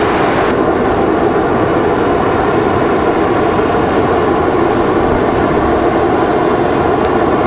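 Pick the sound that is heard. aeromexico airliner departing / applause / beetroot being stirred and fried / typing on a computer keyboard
aeromexico airliner departing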